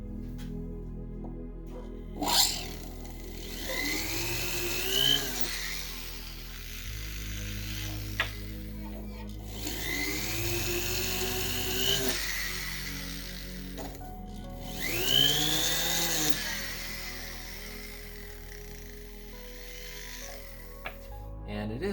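A heart burr grinds stone seats into a sterling silver pendant, three rising whining bursts of several seconds each, close and moderately loud, separated by quieter pauses with a steady low hum underneath.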